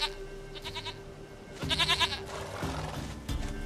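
Goat bleating in The Witcher 3, a few short harmonic bleats over steady game background ambience, fairly close and clear.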